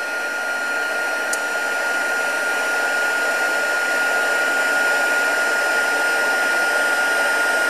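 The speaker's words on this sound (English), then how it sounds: "and my heat gun." A heat gun blows steadily on card, a loud close continuous whooshing hiss with a fixed whine running through it, unbroken for the whole stretch with no talk.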